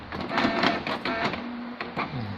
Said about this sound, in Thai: มันก็จะพิมพ์ ใบรายงานออกมานะครับ